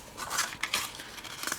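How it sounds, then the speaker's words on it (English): Scissors snip through folded card stock from the top edge down to a score line, a close series of crisp, papery cuts in an uneven rhythm. "I'm just going to take a pair of scissors and just go from the very top of the card to that little score line"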